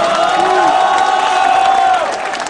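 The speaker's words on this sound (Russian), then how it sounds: "похлопаем, поаплодировали." A loud crowd cheers and whoops at a Say Braah vs Panks Electro show, with sustained shouting voices filling the whole stretch and a faint clatter of applause beneath.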